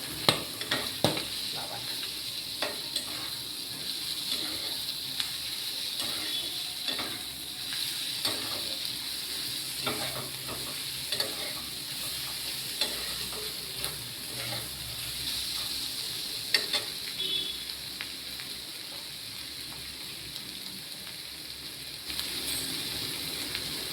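Pointed gourd (kakrol) sizzles steadily in a hot pan, with a broad continuous frying hiss and irregular scraping clicks of a spatula stirring throughout.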